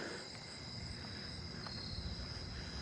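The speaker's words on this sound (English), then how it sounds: "All the pine tree crickets are very low pitched." Pine tree crickets sing low-pitched in a neighbourhood at night, an unbroken, even trill held steadily throughout, faint and somewhat distant against soft ambient noise.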